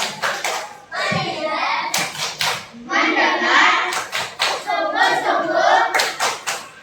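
Children in a classroom perform a rhythmic focus clap, bursts of quick group claps alternating with children chanting in unison, fairly close and lively.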